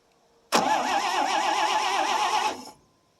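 A 1957 International S120 4x4 pickup that has sat unused for four years cranks in one loud, close burst of starter churning that lasts about two seconds, then stops abruptly without catching.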